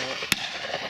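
A single sharp shotgun report cracks out once, fairly close, during a partridge shooting drive, with a faint outdoor hush before and after.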